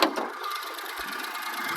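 A 2013 Daewoo Matiz's 0.8-litre three-cylinder petrol engine idles with a steady, slightly uneven thrum, close by and alone.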